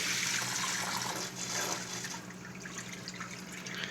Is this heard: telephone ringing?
no